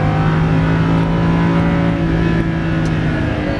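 A Lamborghini Huracan LP610-4 on a race track, its engine droning loud and steady from inside the cabin, a continuous close, dense roar with no talk over it.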